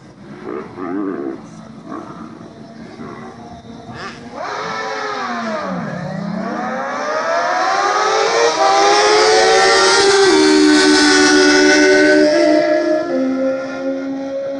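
Street-legal drag racing motorcycles, including a Suzuki Hayabusa, launch down the strip at Rocky Mountain Raceway. Loud engines roar and rev with sweeping rising pitch, building into a sustained high scream as the bikes pull away.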